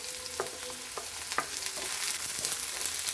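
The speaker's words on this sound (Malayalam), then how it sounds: "കൊച്ചുള്ളി ചേർത്തിട്ട് വഴറ്റിയെടുക്കുന്നതാണ് നല്ലത്" Shallots and green chillies sauté in a pan under a continuous close sizzle, with several light scraping stirs of the spatula scattered throughout and no voices.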